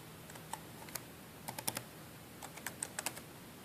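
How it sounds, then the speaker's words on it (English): A password is entered on a computer keyboard, a short run of soft, close key clicks in irregular bursts over a faint background hum. "So we'll go ahead and enter in the password."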